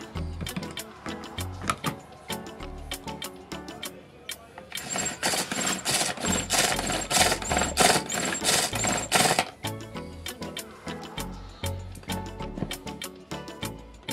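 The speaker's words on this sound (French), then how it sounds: "Et je continue à mixer." A blender keeps blending tomato concentrate into ketchup with added water, a dense steady motor whir that rises to a loud, bright, sustained burst in the middle before easing back to a lower hum, with no talking.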